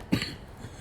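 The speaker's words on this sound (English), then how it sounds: "don't know why I'm coughing so much today." A single brief, faint cough from a person, a quick muffled burst over a low steady background hum, close by and soon gone.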